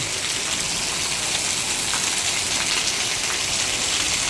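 Steady, dense hiss of heavy rain pouring down without pause over Bamroli village, loud and close, with no voices.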